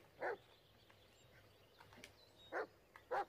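In the Blair Witch video game, a dog gives three sharp, separate barks at moderate distance, spaced by quiet ambient stretches with faint background sound.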